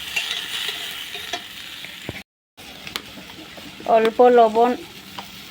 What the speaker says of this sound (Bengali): এবার ঝিঙাগুলো যে কেটে রেখেছিলাম, ধুয়ে রেখেছিলাম, ওটা দিয়ে এইভাবে নাড়াতে থাকবো।